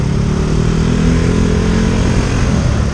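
A Honda TMX motorcycle, a kolong-kolong sidecar setup, runs with a steady, loud single-cylinder engine drone throughout, close by with no talking.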